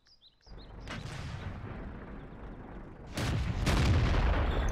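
A tank gun firing in World of Tanks on the Murovanka map: a deep boom after a quiet start, followed by a rumbling tail, then a second heavy, louder blast that leaves a sustained low roar.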